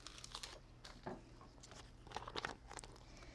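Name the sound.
transfer tape being lifted and handled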